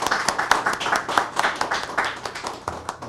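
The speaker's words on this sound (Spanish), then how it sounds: "Un aplauso para Jacobo, por favor." Audience applause for a speaker named Jacobo at an anniversary celebration in Toronto: a steady patter of many hands clapping at close range throughout, brisk and dense, with no talk over it.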